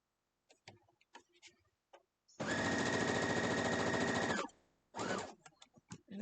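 A sewing machine stitching a thin strip of quilt sashing runs in a fast, steady burst for about two seconds, then briefly again, amid light clicks and fabric handling nearby.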